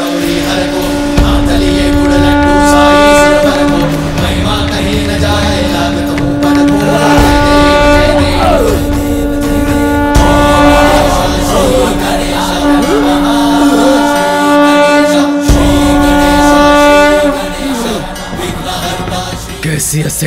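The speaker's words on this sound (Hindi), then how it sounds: "ये तो नारायण के शंख की ध्वनि है" A conch shell, Narayan's shankh, sounds in a devotional drama scene set at Kailash: a loud, sustained, droning blast with rich overtones that holds for most of the stretch over dramatic background music before fading near the end.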